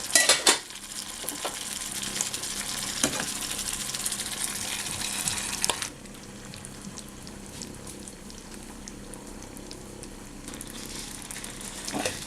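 Marinated chicken goes into a hot pan for a restaurant-style chicken karahi and is stirred. Utensils clatter against the pan over a steady sizzle, and the sound drops to a quieter frying hiss partway through.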